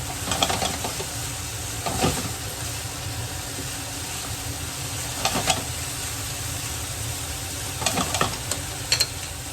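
Daikon radish sizzles and fries in a pan while chicken kimchi cooks, a steady crackle with occasional louder stirring scrapes and bursts.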